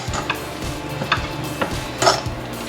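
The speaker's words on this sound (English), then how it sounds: "pop that in. And give that a mix around." Rice salad with freshly cut chives and mint being mixed in a bowl, with a few soft, irregular utensil taps and scrapes standing alone and close.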